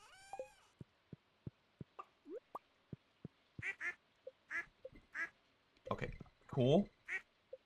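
Duck quacking in Stardew Valley, a run of short sharp quacks spaced irregularly, growing louder and clustering near the end, with a brief spoken remark over them.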